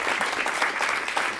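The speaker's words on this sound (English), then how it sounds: "yourselves a round of applause" A crowd applauding steadily, dense clapping at an even level throughout with no pauses, fairly close.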